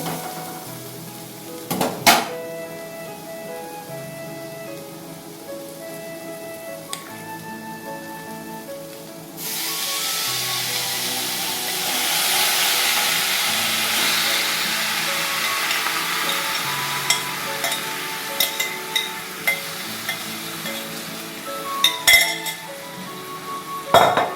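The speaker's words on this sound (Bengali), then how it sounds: "এবার আমি ম্যারিনেট করে রাখা চিকেনটা" Marinated chicken going into a pan of fried onions: clinks of utensils against the pan, then a sudden broad sizzle that rises and holds steady with occasional sharp taps, no talking.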